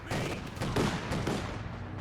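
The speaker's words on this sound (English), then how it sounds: "Double machine guns, very, very powerful." Dense battlefield gunfire from Company of Heroes 2 with machine guns, steady overlapping bursts that hold a loud, busy level through the whole short stretch.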